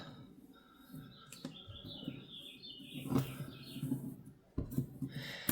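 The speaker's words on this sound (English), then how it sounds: "I hear the birds singing on my balcony" Faint, thin chirps and whistled bird notes wander through a quiet background on a balcony, broken by a few soft knocks and rustles nearby.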